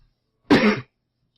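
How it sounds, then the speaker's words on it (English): A single short cough, close and clear, standing alone in silence. "Cough."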